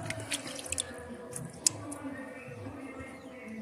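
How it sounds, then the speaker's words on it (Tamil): Hands being washed in a bucket of water while potting a money plant at home, soft sloshing and dripping with scattered small splashes, close and fairly quiet, under faint background noise. "ஸோ வந்து இந்த பக்கெட் வந்து ஃபஸ்ட்டு கையை கழுவிடலாம்."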